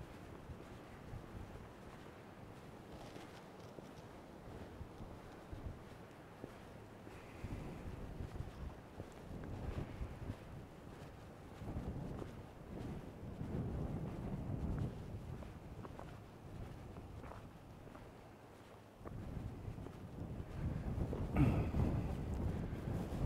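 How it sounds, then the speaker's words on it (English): Outdoor wind along Strickland Road in Montana's Paradise Valley rushes and buffets in uneven gusts, swelling and easing, with a louder surge near the end and no talking. "Some wind."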